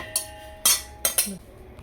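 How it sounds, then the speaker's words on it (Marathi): A metal pot used for making methi laddoo is lifted and set aside, giving three or four sharp metallic clanks and scrapes close by with quiet gaps between them. "आता आपण हे पातेले काढून घेणार आहोत."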